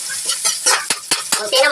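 Garlic, onion and ginger stirred as they sauté in a pan for mussel gisa, close sizzling broken by several quick scraping stirs and spatula knocks in an irregular rhythm, loud and without speech.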